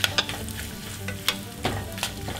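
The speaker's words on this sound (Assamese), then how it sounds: "তেতিয়ালৈকে ফ্ৰাই কৰি ল'ম আমি" Raisins fry in oil in a pan as part of making wheat ladoo, giving a steady soft sizzle with a few sharp crackles and stirring clicks, close and moderately quiet, with no talk.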